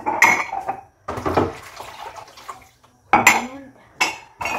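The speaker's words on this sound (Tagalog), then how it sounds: "meron pa akong kailangan linisan yung mga kaldero." Clattering of metal cooking pots and dishes being handled and scrubbed in bursts, with brief pauses between, close by.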